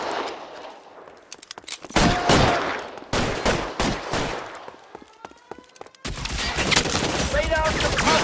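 A shootout in the LA Noire video game, with bursts of rapid gunfire and sharp single shots arriving in clusters, loud and close, sometimes overlapping with shouted commands.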